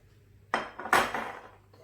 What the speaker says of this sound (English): just mix the wet ingredients into the dry ingredients and your batter is done